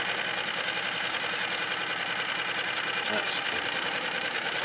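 A 2002 Suzuki DF4 outboard engine runs steadily close by, its even mechanical chatter continuing as it is shifted into gear, with a brief voice speaking over it.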